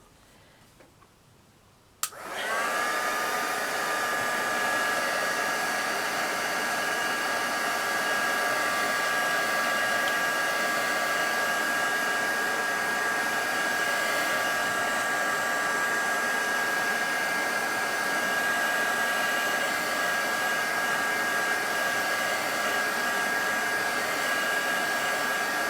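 A hair dryer runs steadily on a miniature garden-style diorama brick wall. It switches on after a moment of near quiet, then holds a loud, close, even whir with a high whine for the rest of the clip, with no talking.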